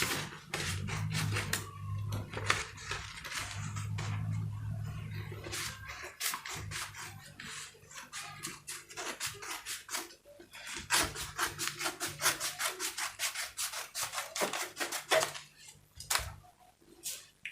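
Scissors cut through fabric along a sewing pattern for simple loose shorts, a steady run of crisp close snips and rubbing strokes with a low hum under the first half.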